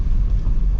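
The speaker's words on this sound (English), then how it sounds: "So just gently let the car roll through it" A car rolls gently through a large water-filled hole on a rough valley track, giving a steady low rumble with wind buffeting the microphone and no talk.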